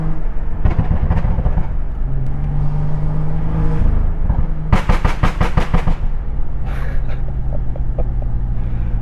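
A tuned BMW 535i M-Sport on the road, with a loud, steady engine drone under acceleration and a fast rattling burst of exhaust burbles and pops midway through.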